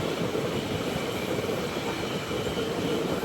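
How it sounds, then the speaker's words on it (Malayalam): An unreserved-class express train rolls into Kodaikanal Road railway station, a loud, steady rumble of wheels and carriages with faint rhythmic clatter throughout. "ട്രെയിൻ ഇപ്പോൾ കൊടൈക്കനാൽ റോഡ് റെയിൽവേ സ്റ്റേഷനിലേക്ക് എത്തുകയാണ്."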